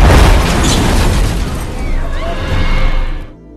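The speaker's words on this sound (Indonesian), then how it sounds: "tiba-tiba mobilnya meledak." A car explodes in a loud, booming blast that rumbles on for a few seconds with crackling debris, then cuts off abruptly.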